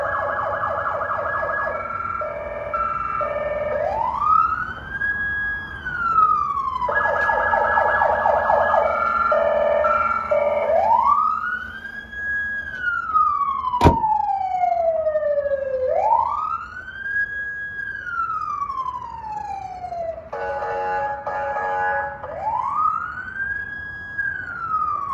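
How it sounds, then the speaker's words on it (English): Police siren on a Chevrolet Tahoe PPV police vehicle, wailing in long rising and falling sweeps with rapid yelp bursts in between, loud and close with no talk over it. "I got the siren going."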